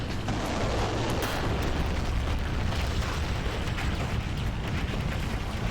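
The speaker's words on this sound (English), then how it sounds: "Other Anthrax set of explosives going off, this time Anthrax Beta" Explosions in Command and Conquer: Generals, with an Anthrax Beta payload going off, make a dense, continuous, loud rumbling roar packed with overlapping blasts and crackles.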